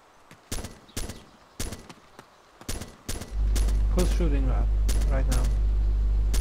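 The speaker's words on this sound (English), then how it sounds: "Shooting right now. I'm shooting." Gunfire in the military shooter Arma 2 during a co-op hill mission: five sharp single shots in an uneven rhythm, then a loud steady rumble of noise sets in and holds while a voice talks over it.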